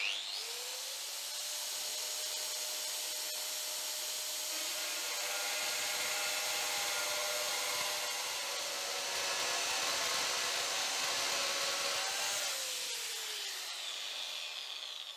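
A Metabo PFM 17 weld bead remover cuts into steel with a loud, steady high-pitched whine and grinding that spins up, holds for roughly twelve seconds, then winds down.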